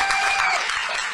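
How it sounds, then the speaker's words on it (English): An audience at a mayoral primary victory speech claps in steady, dense applause that holds through the short moment. "Give them a round of applause."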